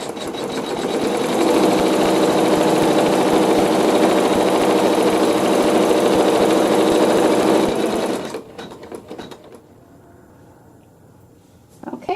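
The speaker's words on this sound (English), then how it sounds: "So now I'm going to go ahead and I'm going to sew the tack down stitch." A sewing machine runs a tack down stitch on a quilt block with a loud, steady motor hum and fast needle rhythm for about eight seconds, then stops, leaving quiet handling noises.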